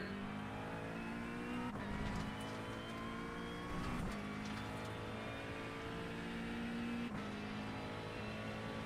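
A race car engine in the iRacing simulator drones steadily at high revs, with slight pitch shifts as it shifts and accelerates around the track, a constant moderate engine tone throughout.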